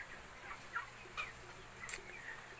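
Young 21-day-old broiler chickens in a poultry house give a few faint, scattered peeps and chirps over steady low background noise, with one sharper call near the end.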